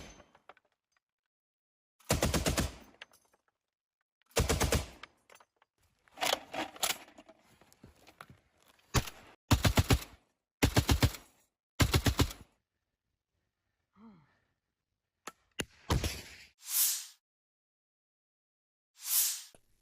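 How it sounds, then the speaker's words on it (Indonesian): A T-72B tank crew fires during an assault on an enemy fortification, with sharp, loud bursts of gunfire in separate clusters and short silences between, then fainter, scattered reports toward the end. "Awak tank T-72B menyerang benteng musuh dengan tembakan sebagai serangan penutup."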